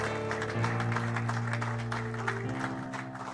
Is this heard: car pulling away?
no